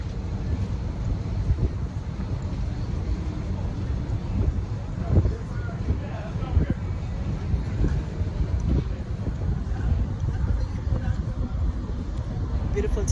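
Steady wind buffets the microphone on the open ocean aboard the Carnival Sunrise cruise ship in the Gulf of Mexico, a constant low broadband rush with occasional louder gusts while a person talks over it.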